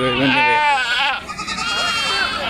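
Goats at a Kunta goat market bleating loudly and almost continuously, several animals calling close by, with people talking in the background.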